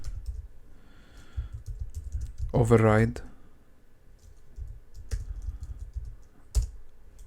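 Keyboard typing while writing code, light key clicks scattered under a man's spoken explanation, with a louder word partway through and a few sharper clicks near the end.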